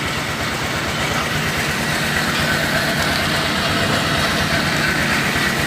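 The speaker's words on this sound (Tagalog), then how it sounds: "Maraming motor dito guys." A group of motorcycles idle together, a dense, steady engine rumble that holds at an even, loud level throughout with no talk.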